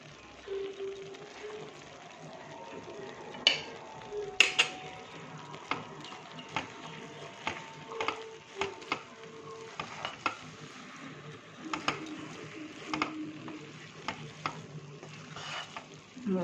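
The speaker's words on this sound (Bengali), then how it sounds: "ভালো করে নেড়ে চেড়ে নামিয়ে নেব।" Thick cabbage ghonto being stirred in a pan with garam masala and ghee, soft low simmering under repeated clattering scrapes and knocks of a spoon against the pan.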